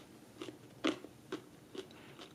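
Air-fried French fries from a Farberware air fryer, some crispy and some soft, crunched while chewing: four or five short, close crisp bites spaced about half a second apart against a quiet background.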